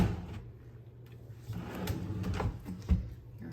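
Hotel room drawer sliding open or shut with soft scraping and a few light knocks and thumps, close by in a quiet room, the last bump the most distinct.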